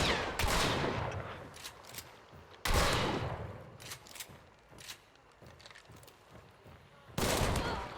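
Gunfire rattles through a video game firefight, with several loud sharp bursts and rapid volleys separated by quieter stretches of scattered single shots, close and punchy, with no talk heard.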